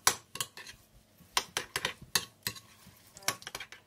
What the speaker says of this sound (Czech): Zamíchám to.